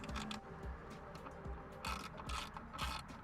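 A ratcheting driver clicks rapidly in short bursts while backing out T20 Torx screws from the dash of a 2016 Ford F150, close and fairly quiet.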